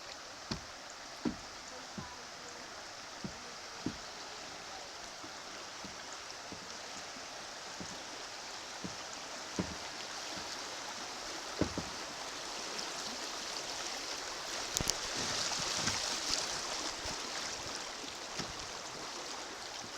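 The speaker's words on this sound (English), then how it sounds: "Coming up on another rapid. Some white water there." A steady, broad rush of white-water rapids on Antietam Creek runs throughout, fairly faint and even, with occasional small knocks and splashes close by during a float trip.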